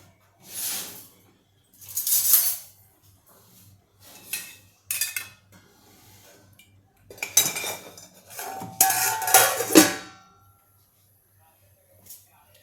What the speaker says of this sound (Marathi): आपण भातामध्ये तेल घालून भाताला थोडंसं परतून घेऊ